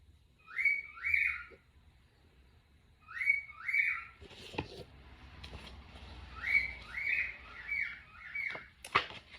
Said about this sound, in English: That would be my other birds.